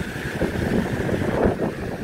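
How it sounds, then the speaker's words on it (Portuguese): Strong wind buffeting outdoors beside the fast-flowing Tietê river, a continuous rushing roar of wind and water without a break. "E aqui bate um vento lascado."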